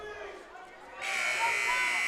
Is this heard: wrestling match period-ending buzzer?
yes